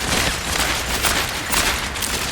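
Rapid bursts of revolver gunfire from McCree in Overwatch crackle continuously in a dense, loud fusillade of overlapping game shots and effects.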